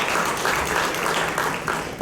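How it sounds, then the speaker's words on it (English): Audience applause at a certification ceremony held by Apollo Hospitals and the Royal College of Emergency Medicine, a dense, steady clapping from a large crowd that fills the whole short stretch at even loudness. "a big round of applause to each one of you for making this happen"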